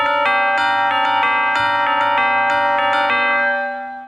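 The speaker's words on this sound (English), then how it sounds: "Tubular bells." Tubular bells are struck in a quick succession of bright, metallic notes that ring on with long overlapping sustain. The sound is loud and close and fades away at the end.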